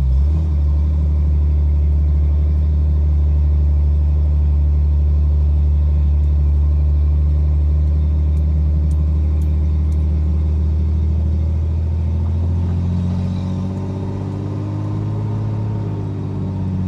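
A Chevy Corvair Monza with Flowmaster exhaust idles with a deep, loud, steady rumble close by, the tone shifting slightly as it eases off near the end, with no talk over it.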